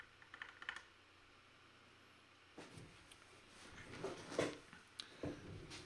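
Intermittent keystrokes on a computer keyboard, a few quick clicks early on, then a pause and denser uneven typing bursts toward the end, fairly quiet and close with no talking.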